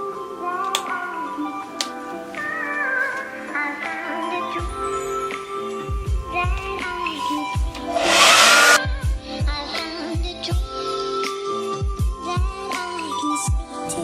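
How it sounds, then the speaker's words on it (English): A blow dryer whirs steadily throughout, with scattered clicks and taps over it and a brief louder burst of air partway through. "Back in with that handy dandy blow dryer."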